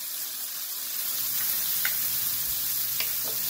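Venison stir fry sizzles steadily in a hot pan, a close, even frying hiss with a few faint clicks of stirring.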